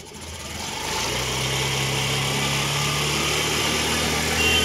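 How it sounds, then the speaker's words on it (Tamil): A Honda Activa 6G scooter engine idles, then is revved up into a steady, loud, high buzzing drone that holds and rises slightly near the end, close by with no speech. "வண்டி ரேஸ் பண்ணுங்க."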